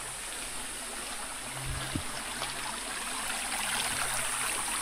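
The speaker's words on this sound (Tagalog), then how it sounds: "Medyo mahina na guys yung tubig ng Kadjaw Falls." Kadjaw Falls waterfall running with a weak flow, a steady broad rushing wash of water heard alone, constant and moderately distant, with a faint low thump partway through.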